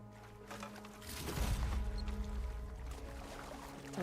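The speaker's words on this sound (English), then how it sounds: "Time for a swim." A character swimming through water in the game Horizon Forbidden West, with soft splashing and sloshing strokes that swell after the first second and continue as a steady watery wash, alone with no talk.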